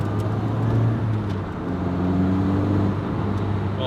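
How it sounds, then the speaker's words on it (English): Supercharged Lotus Elise 220 Cup pulling hard in second gear, a loud steady engine drone with a brief dip before the pitch climbs again under acceleration. "So you can give it full whack in second gear and it will take you up to national speed limit."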